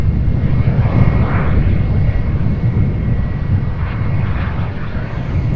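A Southwest Boeing 737 comes in to land, its engines a loud, steady broadband roar close overhead with a faint whine riding on top, with no voices.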